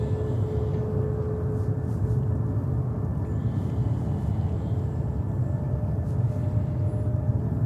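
A Delta airliner takes off from JFK runway 22 right, its engines a steady, loud, low broadband roar that holds evenly throughout, with no talking over it.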